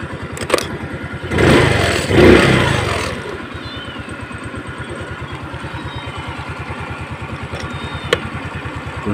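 A Rusi Gala motorcycle engine idles steadily up close during carburetor tuning, a brief rev swelling early before settling into an even, rapid putter, with someone speaking briefly.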